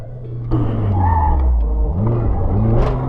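A car runs hard through an autocross course, its engine revving and droning up and down close by, and a brief sharp knock is heard near the end as it strikes a cone.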